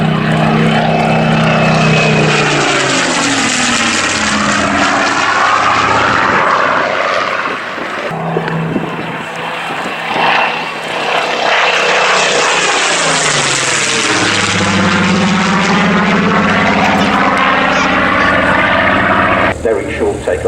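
A propeller aircraft flies past at an air show at Old Warden, its loud engine drone rising and falling in pitch as it passes, with a commentator talking over it.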